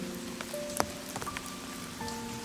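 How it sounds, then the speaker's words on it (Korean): Spring rain falls onto a small pond with a floating lotus-shaped ornament at Baengnyeonsa temple in Gangjin, a soft continuous patter of drops with scattered brighter splashes, steady and fairly quiet, with no voices. "물 위에 떠있는 연꽃 모양의 장식 위로 봄비가 부서지듯 떨어지며"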